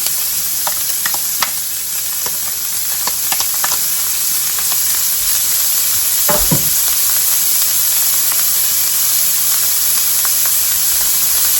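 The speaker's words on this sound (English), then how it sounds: "We're going to saute these until they're softened." Vegetables sautéing in olive oil in a pan, a loud, steady sizzle heard up close, broken by a few scrapes and knocks from stirring and one louder clatter midway.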